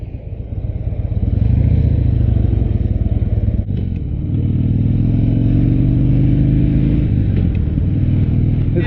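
A 2016 Harley-Davidson Low Rider V-twin rumbles up close with a deep, loud, steady throb, a brief dip near the middle before it settles back into a fuller idle lope, with no talking.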